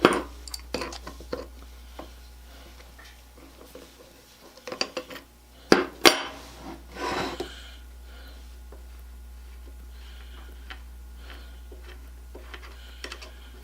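Loosening the union nut on a Bosch 1530 nibbler with a dull punch: scattered metallic clicks and clanks of a tool on the nut, a few louder knocks midway, then quiet handling.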